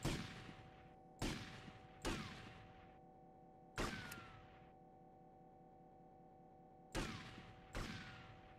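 Gunfire at a shooting range in GTA Vice City: six sharp, separate shots spaced a second or more apart. Each crack rings out briefly over a steady low hum, with no voices.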